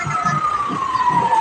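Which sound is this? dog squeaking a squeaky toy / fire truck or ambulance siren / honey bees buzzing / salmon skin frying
fire truck or ambulance siren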